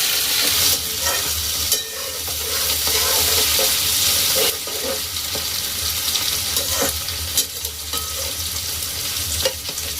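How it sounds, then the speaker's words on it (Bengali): Onions fry loudly in hot oil with black cumin seeds and bay leaves, a dense steady sizzle broken by scraping stirs and occasional clacks of a utensil against the pan. "এবারে পেঁয়াজগুলোকে আমরা ভেজে নেব"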